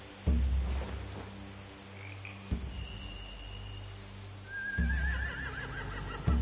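A horse whinnies in a video game in a shrill, wavering call amid low rumbling ambience and a few dull thuds, with no one talking.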